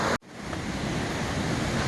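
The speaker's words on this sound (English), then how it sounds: "You can hear the water flowing." River water rushing over Cedar Falls beside a hiking trail in Petit Jean State Park, a loud, steady roar that starts abruptly after a brief break and carries on with no voices.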